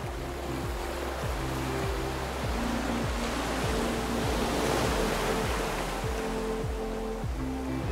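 Sea waves roll onto a beach in a continuous loud wash of surf, with a steady low rhythmic thumping running through it.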